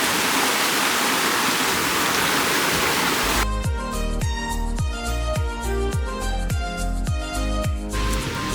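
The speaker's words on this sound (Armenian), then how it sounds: "Ստեղից այս գետի այդ հատվածը երևում է, այս փոքրիկ գետակ է գնում ստեղով։" A small river in Dilijan rushes with a dense, steady hiss of flowing water for a few seconds before rhythmic music abruptly takes over.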